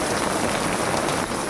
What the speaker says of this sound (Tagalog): Ang lakas ng ulan guys, oh.